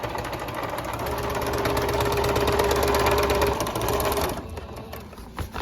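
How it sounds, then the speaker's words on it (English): Sewing machine stitching along a line on a woven feed bag, a close, steady mechanical whirring hum that builds and holds for about four seconds before stopping, with a voice speaking briefly over it. "Okay, I'll sew right along that line."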